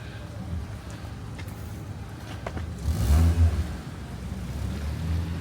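Cars on a Montreal street in winter, a passing engine rumble that rises to a louder vehicle sweeping by midway, under traffic noise with a voice talking.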